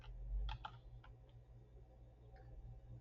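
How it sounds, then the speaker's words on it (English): Quiet, close clicks of a computer keyboard as a short word is typed, a quick cluster of keystrokes followed by a few scattered taps over a low background hum. "I am going to type in the word"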